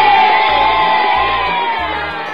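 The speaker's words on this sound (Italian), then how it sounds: "E c'è l'applauso quando il bambino riesce a concludere bene il lavoro." Cheering crowd sound effect with children's shouts and whoops from an interactive children's quiz app, a steady bright burst of celebration lasting a couple of seconds, with a blocky low backing tone underneath.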